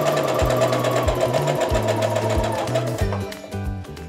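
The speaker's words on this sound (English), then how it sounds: "I'm going to sew just to the right of this drawn line" A sewing machine stitches a quilt block just beside a drawn line, running in short bursts with brief pauses between them, loud and close.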